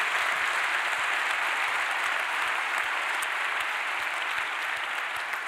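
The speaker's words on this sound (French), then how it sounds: "Que tous les gens qui n'ont pas traversé la Manche en moins de 13h26 applaudissent Philippe Croizon," Audience applauding Philippe Croizon at a talk event, a sustained, full wash of clapping from a large crowd, even and continuous from start to finish with no voices over it.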